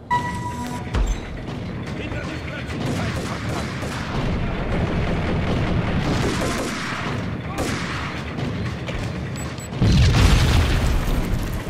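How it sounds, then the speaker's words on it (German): Bursts of gunfire and booms pop off at a distance over a noisy background in the video game Max Payne, with a louder, heavier volley near the end. "Irgendwo schießt noch jemand"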